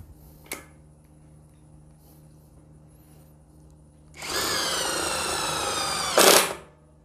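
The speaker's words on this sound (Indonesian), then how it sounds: "Ini menggunakan impact driver yang 12 volt." A 12-volt Mollar impact driver drives a screw, a loud, buzzing, rapid hammering burst of about two seconds that follows a quiet pause and a single sharp click, then stops with a brief louder rise.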